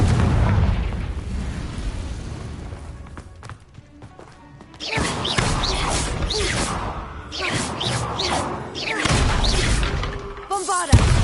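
Confringo spell blasts in the video game Hogwarts Legacy, several booming explosive bursts with crackling debris and swooshing magic effects, loud and close, with a voice speaking briefly amid them.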